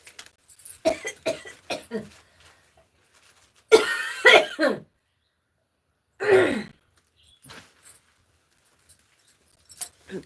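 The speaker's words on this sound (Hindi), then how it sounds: "ज्यादा बोलते हैं तो खांसी भी आती है।" Several bursts of coughing, some short and clustered, a couple of harsher hacks in between, with quiet gaps and no talking.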